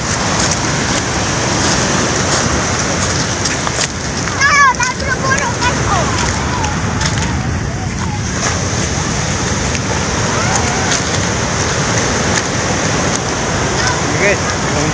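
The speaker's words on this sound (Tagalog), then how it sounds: "Nag-alburuto ang mga dagatan." Rough seas produce a dense, continuous roar of churning water mixed with strong wind buffeting the microphone, loud and close throughout, with a brief muffled voice partway through.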